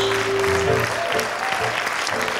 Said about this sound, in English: Let's give the Lord a great big praise clap tonight.